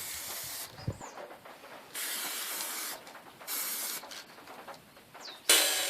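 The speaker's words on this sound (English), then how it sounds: "use spray paint to spray it onto the steel" Several short bursts of aerosol spray paint hissing from a can onto steel, separated by quiet pauses, close up.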